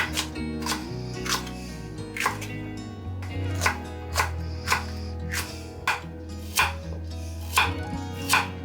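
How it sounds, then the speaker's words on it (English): Onions and garlic chopped with a knife on a board, a steady series of about a dozen sharp, close knocks at a brisk, fairly even pace over a low background hum, no talking. "I'll chop up some veggies, some onions and garlic"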